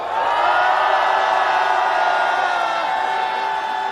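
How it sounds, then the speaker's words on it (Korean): A large crowd at a political rally roars steadily and loudly throughout, a sustained wash of cheering and clapping with no breaks. "여러분 뜨거운 격려의 박수 보내주시기 바랍니다."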